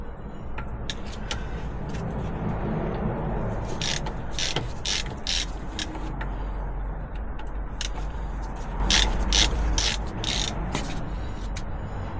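Ratchet wrench loosening a bolt on a VW camper wheel during CV joint work, its pawl clicking in several quick rapid bursts over a steady low hum, close and clear.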